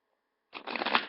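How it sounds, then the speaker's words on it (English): Tarot cards shuffled by hand in one short, close burst of riffling and rustling paper after a moment of silence. "I do like to go through a last little bit of a shuffle while I'm recording for you."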